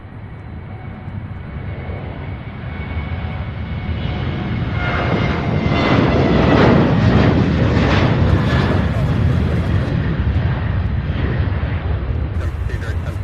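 A United jet airliner takes off for Houston at Louisville International, its engine roar swelling from a distant rumble to a loud peak midway and then holding strong, with a voice talking over it.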